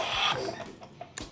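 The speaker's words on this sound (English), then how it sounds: "we're gonna run this tool to a typical installation torque of 280 Newton meters" An Atlas Copco power tool runs a bolt down to about 280 newton meters: a brief whirring rush that fades, followed by a few short sharp clicks as it finishes, close by and alone.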